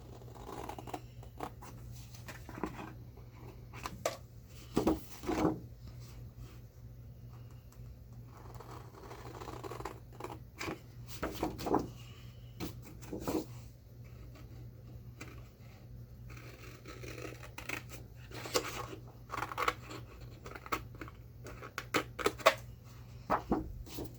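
Scissors cut through scored craft paper in short, crisp snips and slides, repeated irregularly at close range in an otherwise quiet room, with occasional paper rustling.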